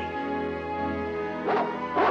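Dog barks twice in a radio drama, two short loud bursts near the end over a steady tonal background, with no talking.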